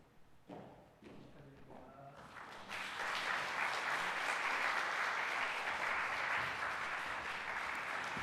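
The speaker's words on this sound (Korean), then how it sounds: "우리 환영과 축하의 박수로 한 번 더 써드리겠습니다." Congregation at a Sunday church service breaking into applause after a few thumps and tapping sounds, the clapping swelling and sustaining steadily to the end.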